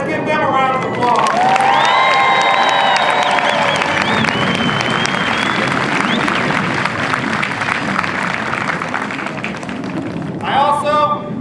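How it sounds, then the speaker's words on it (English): A large crowd at an Air Force basic military training parade applauds loudly and steadily, with cheering, whistles and shouts rising over the sustained clapping, and a fresh swell near the end. "Let's give them a round of applause."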